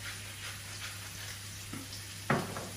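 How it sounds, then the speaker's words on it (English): Vegetables sautéing in a pan with lavender rosemary salt, a soft steady sizzle with faint stirring and a sharper clatter near the end, moderately close and without talk. "We're just going to allow these to saute, soften and get a char if needed."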